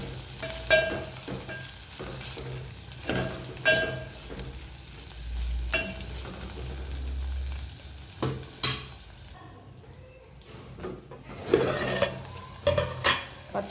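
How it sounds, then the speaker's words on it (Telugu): Green chillies and cluster beans fry in a pan with a soft continuous sizzle, broken by repeated scraping stirs and clinks of a spoon against the metal, close by with no talking. "పచ్చిమిర్చి గోకరకాయ 2 వేగాయి"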